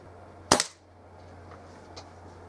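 A Kral NP02 air rifle fires one sharp, close shot at a target. A faint, quiet tail follows the crack.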